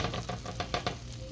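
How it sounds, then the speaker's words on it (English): A cheesy chicken quesadilla sizzles in a hot pan, a steady frying hiss with a few soft scraping stirs on top, close and fairly loud, with no voices. "Some more sizzle."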